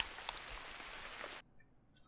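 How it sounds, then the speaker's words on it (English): Rain hisses softly and evenly in the survival game Unreal World, a faint wash of drops that cuts off abruptly after about a second and a half, leaving near silence and a brief tick at the end. "Raining again."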